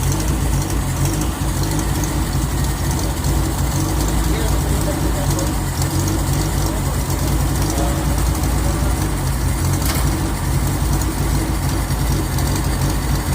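A vehicle engine keeps idling after its key has been switched off and removed, a steady, continuous close-up drone with an unchanging rumble throughout.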